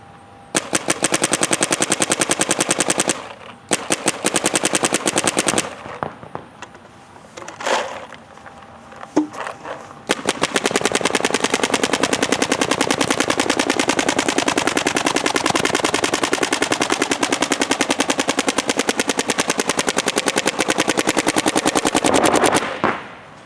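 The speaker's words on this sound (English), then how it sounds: "The gun feels a little poppy, but very smooth, very straight." A Dynasty One Force paintball marker fired with field-grade paint in bursts of rapid, sharp popping shots, then a long sustained string of fast shots, loud and close with short pauses between volleys.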